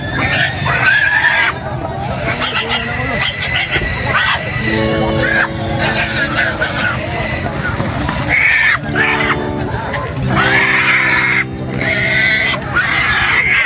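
Pigs grunt and squeal in a busy rural livestock auction market in Siaton, Negros Oriental, with loud continuous crowd chatter and people talking throughout, animal calls rising in bursts over the din.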